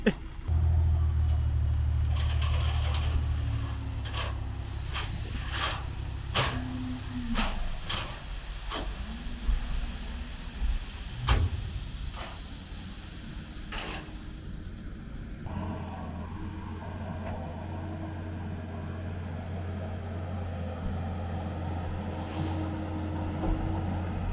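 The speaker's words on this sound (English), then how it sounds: "While I have the truck here, they're shuttling some of the excess fill," A truck shuttles excess fill dirt and scrapings across a post-frame building site, a steady low engine rumble with shifting load and clunks, fairly close, with no talk over it.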